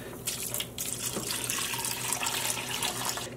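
Water from a pre-soak is poured into a yarn dye pot for speckling with acid dye, giving a steady splashing, gushing pour that runs continuously at close range.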